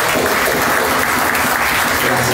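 Steady, dense applause from a crowd at a Buenos Aires tango milonga at El Beso, filling the room evenly without a break and without voices over it.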